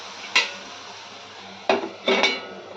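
A metal lid is set onto a cooking pot of simmering egg and potato curry, giving one sharp clank and then two more close clattering knocks a moment later against a low kitchen hum.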